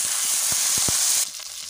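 Tomato puree hitting golden fried onions in a pan gives a loud, bright sizzle with several quick stirring knocks. Partway through, the hiss cuts down sharply to a quieter simmer.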